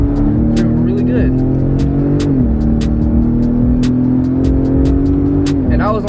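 A 2018 Ford Raptor truck accelerates hard, its engine holding a loud, steady drone with a slight pitch shift partway through, while someone talks over it inside the cab.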